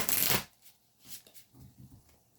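Angels and Ancestor Wisdom Oracle cards being shuffled in one loud, brisk riffle, followed by a few softer sliding and tapping sounds of the deck settling, close up and with no talking.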